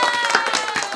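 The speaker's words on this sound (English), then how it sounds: "Do you like the virtual clapping, the virtual audience?" Canned virtual audience applause sound effect, a steady wash of many hands clapping at moderate volume throughout the short stretch.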